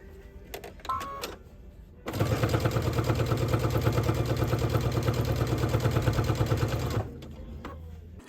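A sewing machine runs steadily for about five seconds stitching quilted fabric for a Christmas gift, a close, rapid mechanical chatter with even rhythm, bracketed by brief clicks and handling noises.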